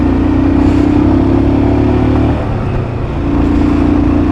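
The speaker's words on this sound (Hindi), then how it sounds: "अपनी बाइक की आवाज़ सुनने में जो मज़ा है" A loud motorcycle engine drones steadily up close, dipping briefly before picking back up.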